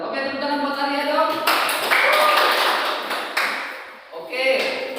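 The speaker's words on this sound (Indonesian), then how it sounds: "tepuk tangan buat Arya dong" A classroom of students claps for a classmate: a dense burst of hand claps rises after a voice and fades back into speech, fairly close and moderately loud.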